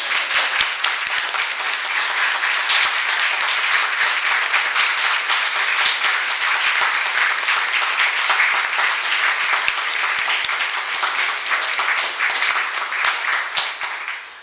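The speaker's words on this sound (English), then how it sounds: "And that's the end, and you may now applaud." Audience applause at an annual school recognition ceremony, sustained dense clapping from a large crowd, steady and loud for the whole stretch before tapering slightly at the end.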